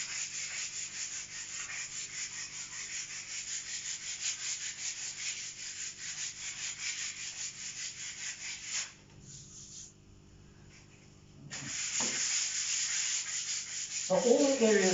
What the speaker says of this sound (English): So all the areas that you put the crack filler in now needs to be sanded.